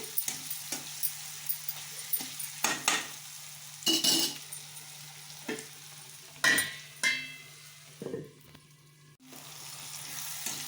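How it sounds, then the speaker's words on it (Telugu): Dried fish fries in oil in a pan for a Telugu fish curry, a soft steady sizzle broken by scrapes and clinks of a spatula stirring against the pan, up close and without speech. "ఒక ఫైవ్ మినిట్స్ నూనెలోనే మగ్గనిద్దామండి చేపలని"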